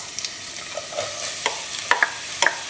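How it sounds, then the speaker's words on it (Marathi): Chopped onions sizzle in a tablespoon of oil in a pan, a soft steady fry broken by a few light scrapes and clinks of a spoon, close and fairly quiet with no talking. "पयलो कांदो भाजया. आनी हितून तेल घातला 1 टेबल स्पून."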